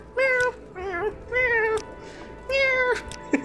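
Voices imitating cats, four drawn-out meows in a row with short pauses between, close and clear, from characters in the game Morrowind.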